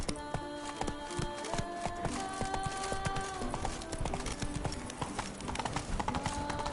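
Roach, the horse in The Witcher 3, gallops with a steady, rapid clip-clop of hooves that stays loud and continuous throughout, layered over game music and ambience, with no talking.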